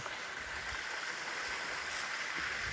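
A creek flows steadily beneath a cover of pines, its close, continuous watery rush and gurgle holding even throughout with no voices.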